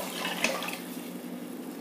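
Water poured into a pan of rice for fenugreek rice, a brief close splashing gush that settles into a soft continuous trickle.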